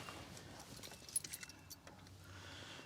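Car keys jingle faintly as they are slipped into the ignition of a Trailblazer, a few soft metallic clinks in quick succession over a quiet background.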